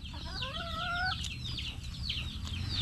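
Chickens cluck close by in a rural yard, with a drawn-out call rising early and then repeated short clucks over steady background noise.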